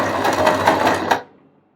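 Sewing machine with a buttonhole foot stitching a zigzag buttonhole, a rapid rhythmic mechanical whir of needle strokes for about a second, then stopping abruptly, close and loud.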